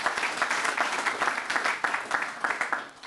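An audience at a business ethics forum in Bled, Slovenia applauds a panelist's introduction, a sustained, moderately loud round of many hands clapping with a slightly pulsing texture, tapering at the close.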